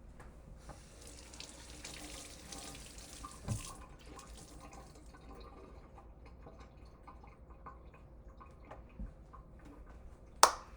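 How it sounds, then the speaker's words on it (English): A kitchen faucet runs steadily while a cloth is rinsed under it, a soft continuous splashing hiss with a few small knocks and a sharper clatter at the end, no voices. "I'm going to rinse this out, and I'm going to set it over my faucet"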